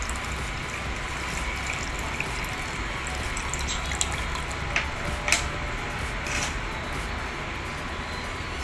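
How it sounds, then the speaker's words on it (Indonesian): Water pours steadily into the funnel of a simple homemade water filter, making a continuous close splashing rush with a few faint clinks. "kita akan masukkan airnya ke bagian corong ya"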